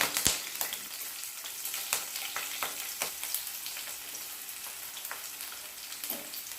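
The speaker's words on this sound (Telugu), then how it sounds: "ఇప్పుడు పచ్చిమిర్చి ఉల్లిపాయలు ఆయిల్లో వేసుకుందాం" Green chillies and onions hit hot oil in a pan while cooking a ladies finger curd curry, giving a soft, continuous sizzle with a few louder crackles and stirring clicks near the start.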